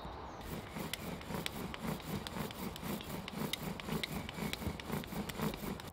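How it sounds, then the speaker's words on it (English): Rhythmic back-and-forth rasping of a bow drill grinding into split wood lubricated with a green leaf, about two strokes per second, steady and close. "I was going to give this a go, this bow drill."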